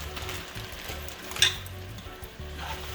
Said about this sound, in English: I'm just going to keep sauteing and cooking these until they're kind of like almost